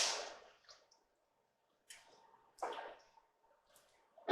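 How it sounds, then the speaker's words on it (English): Shrimp jambalaya with Cajun seasoning being stirred in a pot, heard as a few close, wet squelching swishes separated by short silences. "Just stir."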